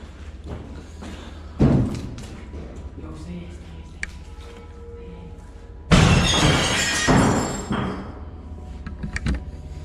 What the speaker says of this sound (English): Something crashes through a window, then another.